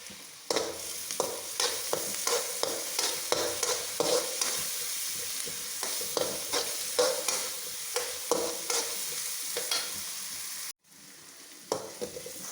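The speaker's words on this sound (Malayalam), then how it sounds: "സവാള വഴന്നു" Onions sautéing in a pan for a soursop fruit masala curry, with steady frying sizzle and repeated spoon stirring strokes scraping through, close and clear, with a brief pause near the end.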